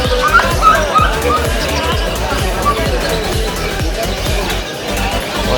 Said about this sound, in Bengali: এখানে দেখতে পাচ্ছেন কুকুরের বাচ্চা সব